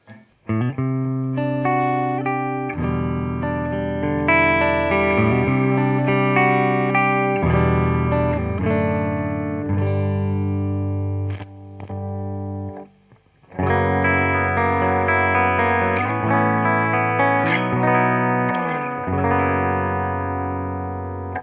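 A 1990s Ibanez S series electric guitar plays notes and chords through a Fender Deluxe Reverb amplifier, clean and ringing with a shimmering flanger effect, briefly pausing midway.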